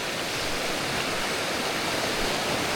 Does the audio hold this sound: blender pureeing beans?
no